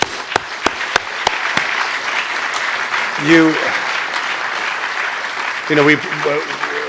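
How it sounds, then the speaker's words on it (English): Audience applause following a history lecture on Greeks and Jews, a few sharp claps at the start then a sustained crowd wash of clapping, with voices briefly talking over it. "We want to thank, please, a round of applause for Catherine."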